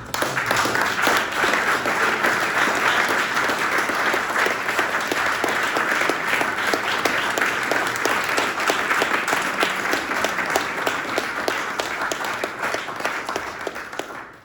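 An audience at a talk on exoplanets and the first human steps on Mars applauds two illustrators with long, sustained clapping. It stays dense and even for about fourteen seconds and tapers off at the end.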